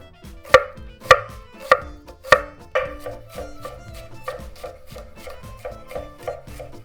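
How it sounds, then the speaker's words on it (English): A knife chops onion on a board, four sharp, evenly spaced strikes followed by a run of quicker, softer slicing cuts, close and clear with no talking. "now we start to chop the onion. And we slice like this"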